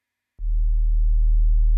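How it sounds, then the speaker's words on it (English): A pure sine wave straight from a Make Noise DPO oscillator switches on abruptly and holds as a loud, steady low tone with no other sound. "I have a sine wave, just a pure sine coming directly out of the DPO"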